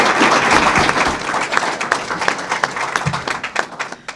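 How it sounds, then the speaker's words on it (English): A crowd claps after a local 3rd Ward debate event, brisk close applause that starts dense and thins into scattered, uneven individual claps as it winds down. "Round of applause."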